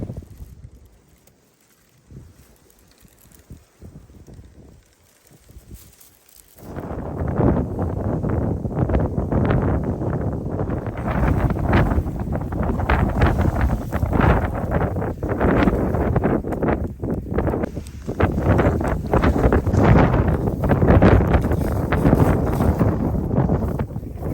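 Wind buffets the microphone in heavy, rumbling gusts after a brief quiet start, roaring on and off throughout.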